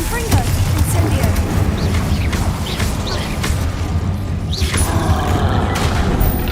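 Spell blasts boom and thud in Hogwarts Legacy, a loud, dense barrage of explosive impacts with a player shouting spell names over the top.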